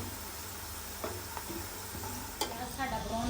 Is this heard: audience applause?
no